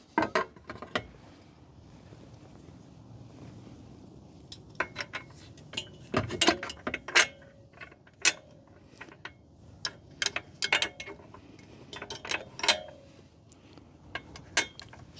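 A ramp is fitted back onto a budget single e-bike hitch rack, producing scattered sharp metallic clicks, clanks and taps at close range over a quiet background, with no talking.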